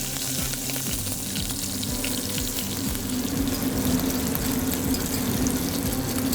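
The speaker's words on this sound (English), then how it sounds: "Wet spatula, hot grease." A wet spatula meets hot grease while a roux of fat and flour is being made, giving a steady crackling sizzle that swells slightly toward the end, close up and with no voices.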